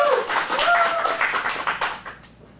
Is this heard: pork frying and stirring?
no